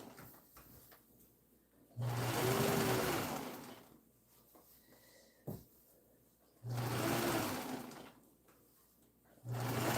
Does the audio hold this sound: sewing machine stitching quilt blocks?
yes